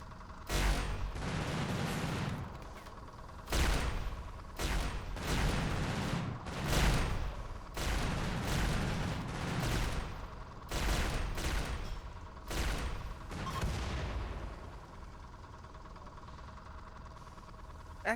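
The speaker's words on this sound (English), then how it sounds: "Apparently, probably have to turn off and on auto fire for all of our turrets" Auto-firing turrets in the colony game Rimworld let off repeated bursts of gunfire in bunches, loud and close, with short gaps of quieter background between volleys.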